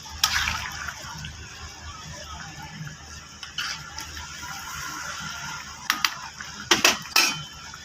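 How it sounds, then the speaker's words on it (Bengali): Fish slipped into a pot of vegetables and water while cooking a potato and fish curry, giving a few short splashes and clinks, faint and scattered, with quiet kitchen background between them. "এখন আমি মাছটা ছেড়ে দেবো।"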